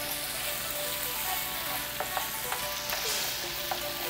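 Steady loud sizzling of food frying in a hot pan, with occasional scraping and clinks of a utensil stirring, no talking.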